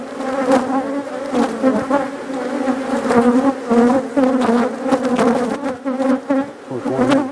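Angry honeybees swarm close around a beekeeper's veil, a loud, dense, continuous buzz with wavering pitch as individual insects dart near and away. No voices.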